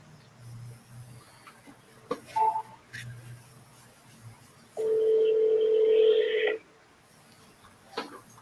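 Telephone call to a seller placed on a handset: scattered faint clicks and brief tones, then a loud sustained ringback or dial tone lasting about two seconds, followed by quiet.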